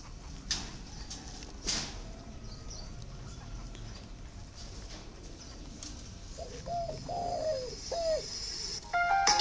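A spotted dove coos softly in the distance, a short series of low hooting notes near the end, over quiet background noise with a few faint clicks.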